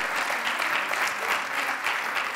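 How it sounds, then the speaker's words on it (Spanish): Steady applause from an audience at a public sustainability and transport conference, dense continuous clapping with no voices over it. "Fort aplaudiment"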